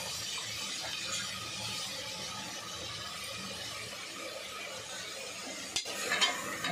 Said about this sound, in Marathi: टमाटा जसा गळणार ना तसा आपला कोळंबी पण चांगला या मसाल्यामध्ये फ्राय होणार.